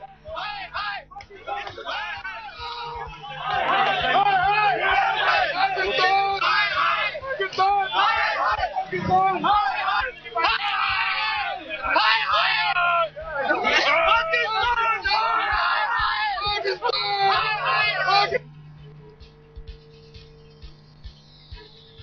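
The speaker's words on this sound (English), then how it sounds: "these are lawyers who are shouting slogans" A crowd of lawyers protesting at a venue in Ajmer shouts slogans in loud, sustained chanting and hubbub for about eighteen seconds before it drops to a quieter murmur.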